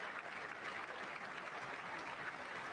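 The audience at Trump's State of the Union address applauds, a steady, even wash of clapping from a large hall heard at a fairly low level throughout.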